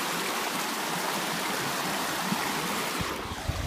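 Water rushing steadily through a channel dug by hand outdoors, a continuous broadband flow like a small stream, fairly close and even throughout with no talk.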